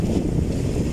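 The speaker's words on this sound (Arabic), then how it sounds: "الريح شادد الوقت ده ريح 14" Strong wind blows at a beach fishing spot on the shore, a rough and steady low buffeting roar that rumbles against the microphone for a brief moment.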